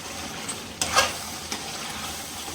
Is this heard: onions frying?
yes